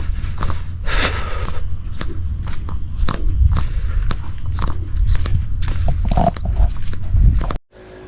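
Pigs on a farm grunting and oinking close up, with steady shuffling and trotting hooves and feeding noises throughout, loud and continuous until the sound cuts off near the end.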